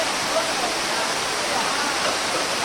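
Periyar Falls in the Kalvarayan hills pours down in a constant, loud, close hiss of rushing water, an unbroken wash of noise with no clear voices above it.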